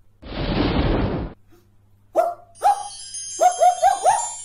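A dog barks in a quick series of sharp yaps after a burst of broadband noise, the barks loud and close with brief gaps between them.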